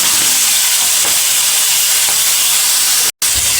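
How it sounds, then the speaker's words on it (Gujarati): Curry leaves and chickpeas sizzle steadily in hot oil, a loud continuous hiss and crackle that cuts out for a split second before resuming. "હવે આપણે તેમાં મીઠા લીમડાના પાન, હવે આપણે તેમાં ચણા નાખી દઈશું."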